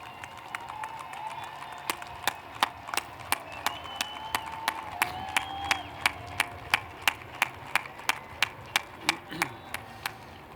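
Graduates at a commencement ceremony clap in a slow, steady, rhythmic beat that gradually builds, with crowd murmur and a voice faintly underneath.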